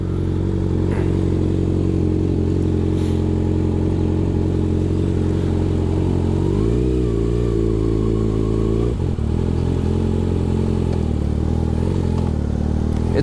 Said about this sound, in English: It's good to be back on a bike that can brake as well as it can accelerate.